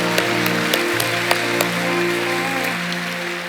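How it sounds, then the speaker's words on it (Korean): A congregation at a Friday night worship service at Suyeong-ro Church claps steadily over sustained held musical tones, with a few sharper claps standing out. "하나님께 영광의 박수를 올려드립시다."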